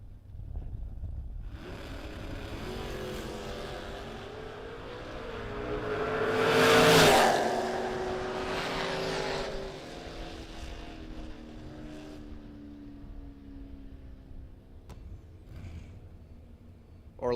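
A small block Camaro at a drag race, heard as a distant engine roar that swells to a loud pass midway and then fades into a lingering drone, with faint crowd noise.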